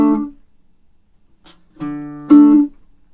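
On a baritone ukulele, a few plucked double stops ring out, with the fourth string muted by a resting finger. The short, clean notes are separated by silence.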